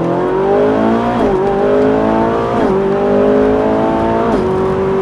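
A Lamborghini Gallardo LP560-4 or Ferrari 458 Italia accelerates hard on a track, its loud, close engine climbing through the revs with repeated gear-change dips.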